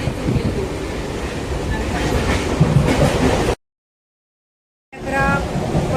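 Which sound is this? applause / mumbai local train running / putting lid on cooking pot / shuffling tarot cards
mumbai local train running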